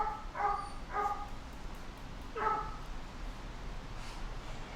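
A dog barks several times in short, separated yelps, a couple close together and another after a pause, fairly faint against a quiet background.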